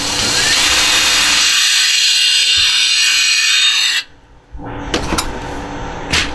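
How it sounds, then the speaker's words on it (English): A power drill bores a small pilot hole for a set screw, a steady loud whir and grind that cuts off abruptly, followed by a few short clicks and handling knocks. "I'm going to drill a little pilot hole right there."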